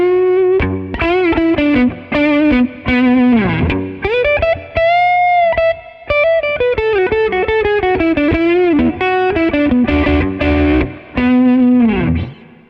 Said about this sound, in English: As soon as you go into the distortion channel, just take the gain down a little bit because this is kind of extreme.